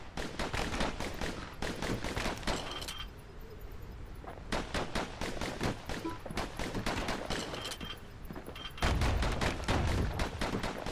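Dual slinger pistols blasting away in Bastion: rapid volleys of crackling shots in several bursts, separated by brief lulls, loud and close with a heavier thump near the end.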